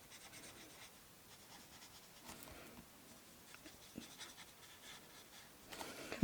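Hand drawing with a pen on a paper treat box, a faint scratchy scribbling with short strokes and small pauses, quiet and close, with no voices.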